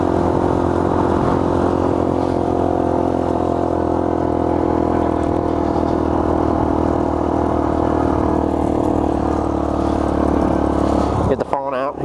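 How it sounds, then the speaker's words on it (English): A Honda 50R 49cc motorcycle runs on a trail with a steady, buzzing small-engine drone held close and loud. It continues evenly throughout, then ends in a brief clatter of handling noise. "it's only a 49cc motorcycle"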